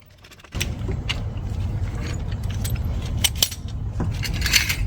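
A car jack lowers a Mazda 5 after a brief quiet moment, then gives a continuous close metallic rattle and clinking with a few sharper clicks, and no one speaks.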